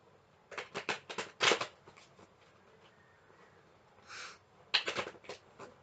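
Tarot cards being shuffled by hand during a new moon reading: bursts of quick riffling and snapping, close and crisp, separated by quieter pauses.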